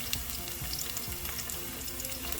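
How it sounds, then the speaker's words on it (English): Peppers and shallots fry in a pan over medium-low heat, giving a steady, close sizzle and crackle throughout, with no talking. "sauce by frying up our peppers and shallots."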